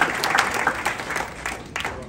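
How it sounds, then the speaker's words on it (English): Audience applause greeting an Air Force Thunderbirds demonstration squadron pilot, a moderate, steady patter of many hands with a few louder bursts over about two seconds and no talk. "huge round of applause for Strobe"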